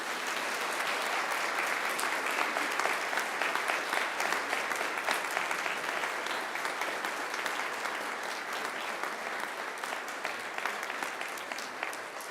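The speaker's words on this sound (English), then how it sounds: "And now I invite you to give them a mighty round of applause" A graduation ceremony audience at Macquarie gives sustained, even applause, a dense wash of clapping from a large hall that continues steadily throughout.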